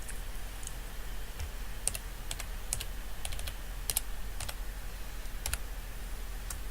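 Typing on a computer keyboard while entering an Excel formula, heard as light, quick clusters of key clicks in irregular bursts, close and fairly quiet over faint room hiss.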